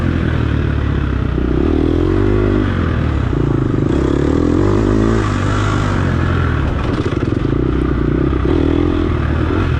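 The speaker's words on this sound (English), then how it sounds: "So I'm hearing somebody rev." Dirt bike engine on a bumpy off-road race track. A loud, close, continuous drone rises and falls in pitch as the throttle changes, with faint rattling over the bumps.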